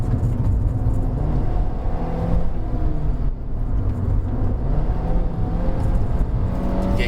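A small Kia Picanto 1.2 GT Line climbing the Genting hill road, its engine holding a steady, strained drone with tyre and road rumble throughout, heard from inside the cabin.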